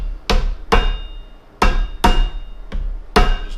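A rawhide mallet taps a metal bushing into its bore on a rotary welding desk, six sharp, close knocks at a steady pace, each with a short metallic ring and no voices.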